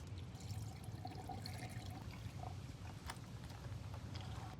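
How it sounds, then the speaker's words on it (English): Distilled water poured into a car radiator during a coolant change, a quiet steady trickle and gurgle running continuously, faint under low background hum. "Next we're going to add some distilled water."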